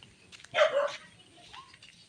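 A single short dog bark near a rural house, moderately loud against a quiet background, followed by a softer faint whine.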